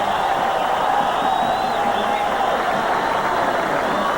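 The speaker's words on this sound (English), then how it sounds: "Listen to the crowd." Stadium crowd roars steadily at the 1987 baseball All-Star Game at Oakland-Alameda County Coliseum, a dense, continuous wash of cheering and whoops with a faint whistle rising through it, no break in the noise.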